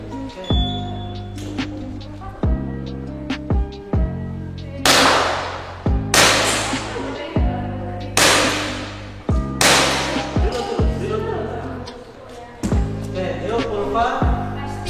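Sharp, echoing gunshots ring out at a reaction shooting school in Malang, several loud cracks in irregular bursts over a steady musical backing.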